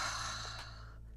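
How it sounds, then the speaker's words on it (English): A single long exhale through an open mouth during a gentle yoga flow, a soft breathy sigh that tapers off over about a second, close and quiet over a low steady hum. "Open the mouth, exhale."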